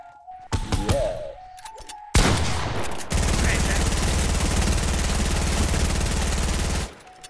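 Gunfire in a Fortnite playground match: a few sharp thumps and clattering shots give way to a loud, sustained burst of rapid automatic fire lasting about four seconds, then an abrupt stop.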